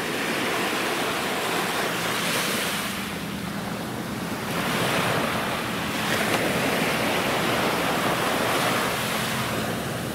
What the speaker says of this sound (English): 3 or 4 mile an hour wind, light waves